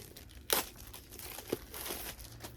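A book wrapped in plastic being unwrapped, heard as close crinkling with a sharp crackle burst, a few softer crunches and tearing rustles, and no talking.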